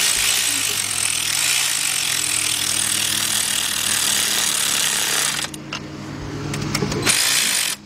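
A power ratchet tightens a bolt on the 3.5-litre engine of a 2012 Ford F-150 pickup during a valve cover gasket job, giving a loud, steady mechanical whir that breaks off briefly near the end and then resumes before stopping.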